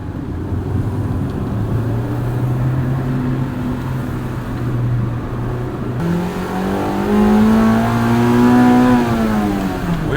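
A 1998 Acura Integra GSR sedan engine drones steadily, then climbs sharply in pitch as it revs to nearly 8,000 RPM before easing off, loud and close from inside.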